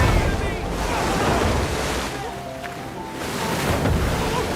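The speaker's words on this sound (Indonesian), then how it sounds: "mereka melihat arus sungai yang sangat deras" Rushing river current in a steady, loud broadband roar, with surges of turbulent water and wind-like hiss.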